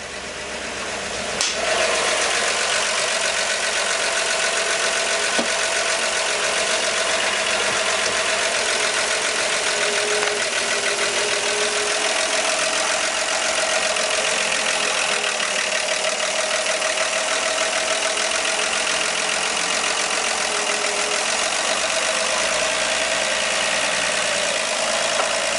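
A 1959 Ford Mister Softee ice cream truck engine warming up and idling, loud and close throughout with a steady, unbroken hum and no voices.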